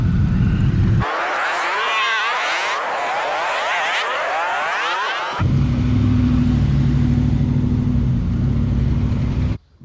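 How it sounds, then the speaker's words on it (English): A big pack of around 100 to 150 motorcycles rides past in town, a loud continuous roar of many engines that swells in the middle and then drops to a steady lower rumble as the group goes by. "There's a lot of motorcycles, probably 100, 150 motorcycles."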